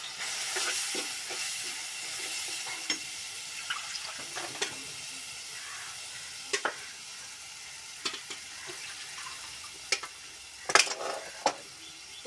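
Ground masala paste goes into a pan of fish head curry and fries with a steady, quiet sizzle. Sharp scraping clicks from stirring recur throughout, with no one talking.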